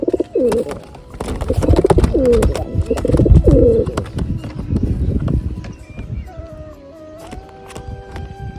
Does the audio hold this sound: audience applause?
no